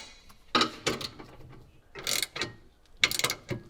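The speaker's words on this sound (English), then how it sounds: "So this fastener here attaches with a 9/16 socket." A hand ratchet fitted with a 9/16 socket tightens a fastener while reverse lights are installed on a RAM truck, giving several short bursts of close, crisp clicking with brief pauses between strokes.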